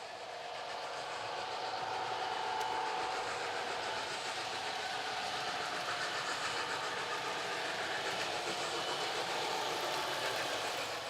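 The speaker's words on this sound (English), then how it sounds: "you could just shuffle some wagons back and forth like I'm doing here" TT:120 scale model railway wagons being shunted back and forth in a goods yard give a faint, steady mechanical whirr and rolling hum that runs continuously and evenly throughout.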